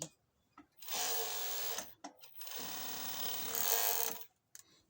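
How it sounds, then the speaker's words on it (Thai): A four-thread overlock serger finishes the raw edge of trousers in two bursts of steady, close whirring with a short pause between them, nobody talking. "อันนี้พี่รีใช้โพ้งสี่เส้นนะคะ"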